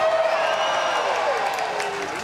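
An audience at the nighttime Indiana Jones Epic Stunt Spectacular at Disney's Hollywood Studios claps and cheers in a steady, loud roar that runs the full length, with sweeping tones from the show's sound system mixed in.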